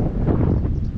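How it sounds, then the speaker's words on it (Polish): A strong, cold wind blows across an open field, buffeting the microphone with a dense, continuous low roar for a single second, with no voices. "Zaczęło silnie zimnym wiatrem wiać."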